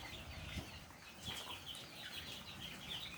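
Fourteen-day-old hybrid Sonali chicks chirp and cluck in a steady, lively chatter of high peeping calls, close by, with faint wing flutters and no talking.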